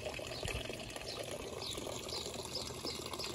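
Pond water running through a biofilter gives a continuous soft trickle and burble, faint and steady, with no voices.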